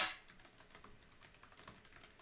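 Typing on a computer keyboard: a quiet, close run of light key clicks with an irregular rhythm after a brief louder burst at the start, with no talking.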